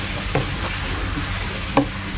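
Bottle gourd and shrimp stirred in a frying pan over a constant low sizzle, with two brief spatula scrapes against the pan.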